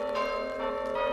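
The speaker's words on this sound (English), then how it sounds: "Verger and bell ringer Neil Faulkner has been practising his peal." Village church bells rung in a peal by the verger and bell ringer ring out as a steady, sustained wash of overlapping metallic tones with no talking over them.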